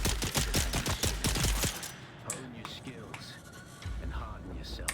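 Rapid bursts of gunfire while shooting an enemy in the video game Dune Awakening, a dense volley of sharp shots in the first two seconds, then quieter game ambience with another low rumble near the end.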